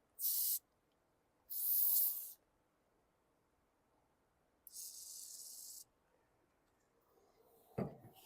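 Compressed air sprays in three separate hissing bursts while cleaning the carburetor of a 2009 Toro Recycler lawn mower, each burst short and sharp, with quiet gaps between them and a faint knock near the end.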